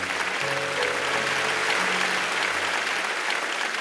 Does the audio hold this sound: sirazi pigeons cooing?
no